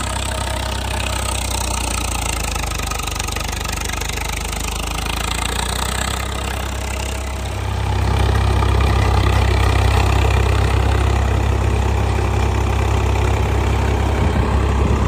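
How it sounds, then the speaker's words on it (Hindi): Swaraj 855 50 HP tractor engine driving a 9-foot rotavator at about 1400 RPM, a steady loud low-pitched diesel rumble that grows heavier and louder about halfway through, with no talk. "1400 RPM लो का दूसरा Swaraj 855, 9 feet rotavator, 50 HP tractor"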